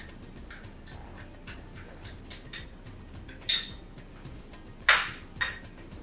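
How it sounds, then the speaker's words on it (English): A spoon clinks and taps against a bowl while mixing all-purpose flour, corn flour and a pinch of salt for cake batter, giving sparse, irregular clinks with a couple of sharper, louder scrapes. "Let's mix the next rest of the ingredients"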